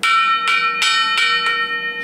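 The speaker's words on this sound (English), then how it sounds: "this is a loud, very, very loud bell" A big antique cast iron electric bell rings loud and close, sounding five evenly spaced strikes with a bright, sustained metallic ring between them.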